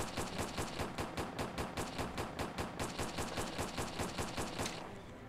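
Rapid automatic gunfire from a SpongeBob fan video game rattles off in a steady, evenly spaced stream of sharp shots for about five seconds and then stops, with no voices.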